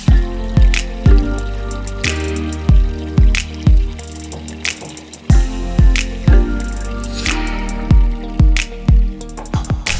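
Water in an Inca irrigation channel at the Pisac ruins in Peru, running and dripping close by with loud, repeated plopping drips over a steady trickle, alone.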